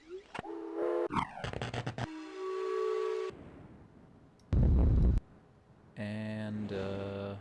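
Steam-whistle-like tones from the game Myst sound in several bursts: sharp stuttering blasts, a sustained pitched hoot, a broad noisy puff, then a final steady whistle, all fairly loud and separated by short gaps.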